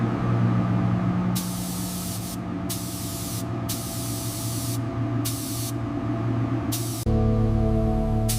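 Paint sprayer hissing out the final coat on an old large fishing vessel under restoration, loud steady spray bursts in several long passes over a constant machine drone.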